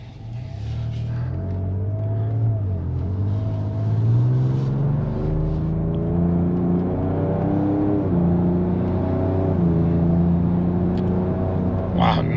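A 2024 Ford Ranger Raptor with a 3.0L V6 accelerates smoothly from inside the cab, its engine drone rising and falling through gear changes as a steady, continuous hum with road noise.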